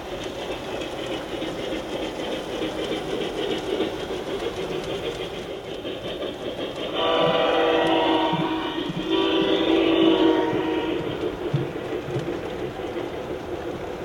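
A model train rolls around a tall, curved wooden trestle on a layout, a steady low rumble and clatter that grows louder and brighter in the middle, with a faint horn-like tone.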